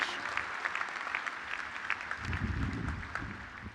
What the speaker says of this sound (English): Another cheer for Dean Reeder, come on.